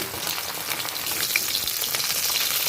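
Live fish frying in hot oil in a pan, a continuous close sizzle with scattered crackles and spits, steady and moderately loud throughout with no voices.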